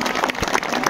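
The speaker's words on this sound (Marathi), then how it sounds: "टाळी वाजवा टाळी." An audience claps along during a devotional kirtan for Sant Tukaram Maharaj Beej, with a dense, steady wash of hand claps and faint accents that carry on through the whole second.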